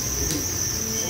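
Farmed crickets in breeding bins give a steady, high-pitched chirring drone close by, continuous and even in loudness throughout.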